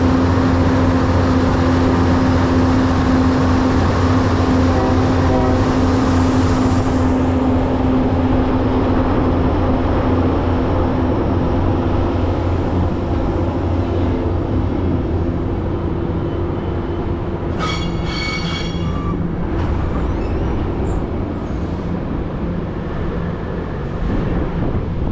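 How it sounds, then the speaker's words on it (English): MTA BL20GH diesel locomotive hauling a Metro North train out of Track 5 at South Norwalk, heading for Danbury: a steady, loud engine drone with low rumble held throughout, alone, with a brief rattling burst near the end. "MTA BL20GH111 departs Track 5 with Metro North train"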